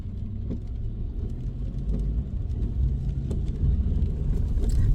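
A small car drives along a road, its engine and tyre noise forming a steady low rumble heard from inside the cabin that swells slightly toward the end, with no talking.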